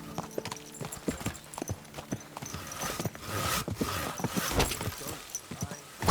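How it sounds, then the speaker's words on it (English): Horse hooves clip-clop on hard ground in the video game Kingdom Come: Deliverance II, a brisk irregular clatter of close, sharp strikes that builds and thickens toward the end. "Watch out with that horse!"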